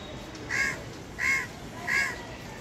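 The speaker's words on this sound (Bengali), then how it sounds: "কাকটা কোথায় বসে ডাকতেছে আল্লাহ জানে।" A crow caws three times at even intervals, clear but somewhat distant, heard from a city rooftop garden over a steady background hum.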